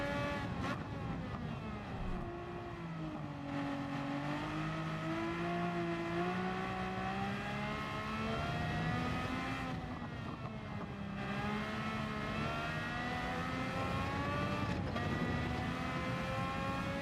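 A naturally aspirated race car engine revving to about 12,000 RPM in Gran Turismo 7 time trials, a high, buzzy motorbike-like whine rising and falling through gear changes, continuous and loud.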